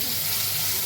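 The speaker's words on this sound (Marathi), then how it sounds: "त्याला फोडणी द्यायची" Cloves, crushed garlic and coriander tempering in hot oil, a dense steady sizzle that runs loud and unbroken for the whole moment, close up in a home kitchen.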